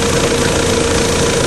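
A GM 2.0-litre 8-valve engine in a Chevrolet Vectra idles steadily with a constant low hum, close and loud, and no voices.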